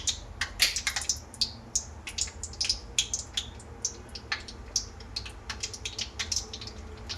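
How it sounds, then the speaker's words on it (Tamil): Mustard seeds splutter and pop in hot oil during the tempering step for a Tamil karamani (black-eyed pea) sundal, with rapid, irregular crackles and sharp bursts that come close and fairly loud throughout. "கடுகு நல்லா பொரிஞ்சு வந்ததும்"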